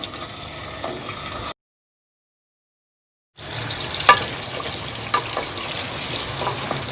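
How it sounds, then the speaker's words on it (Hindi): Potatoes fry in hot oil in a karahi with a dense, crackling sizzle up close. The sound drops out to silence briefly, then returns with small pops and spatters, and no one speaks. "तेल कढ़ाई में गर्म हो गया है, तो अब हम इसमें आलू डाल देंगे।"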